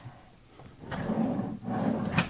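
A brand-new six-drawer dresser in a hotel bedroom, its drawer sliding open and then easing shut on a soft cushion close, two smooth rumbling glides with a quiet stop, close by.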